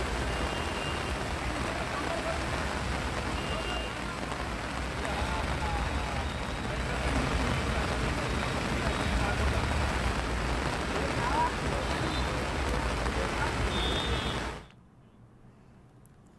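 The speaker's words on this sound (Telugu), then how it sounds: "హైదరాబాద్ లో పలు చోట్ల భారీ వర్షం కురుస్తోంది" Heavy rain falls across Hyderabad, a steady wash of close, even downpour noise that cuts off abruptly near the end.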